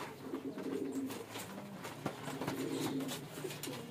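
Fancy male pigeons cooing, soft repeated throaty coos overlapping in a low rolling rhythm, fairly faint and close, with light background rustle.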